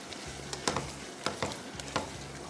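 Keema and potatoes being stirred in a pan with a teaspoon of garam masala: a few scraping strokes of the spoon at a steady rhythm over a soft sizzle, close and fairly quiet, with no talking.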